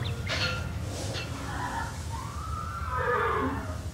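Horse in the video game Star Stable whinnying over a constant background hum, with several short calls and a longer rising-falling neigh near the end.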